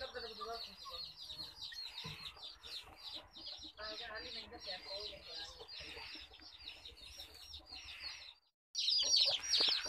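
A hen clucks repeatedly among small chicks in a Pakistani village yard, with chirps and bird calls running steadily throughout and a louder burst near the end; people talk faintly in the background.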